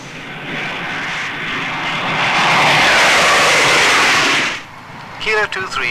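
RAF Nimrod maritime patrol aircraft engines roar loudly and steadily, swelling to a peak before cutting off sharply near the end, followed by a brief radio-like voice.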